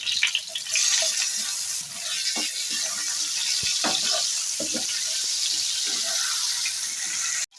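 Water poured into a pan of Bengali pabda fish curry with potatoes and tomato, a steady hissing, bubbling pour that runs continuously at close range and stops abruptly at the end.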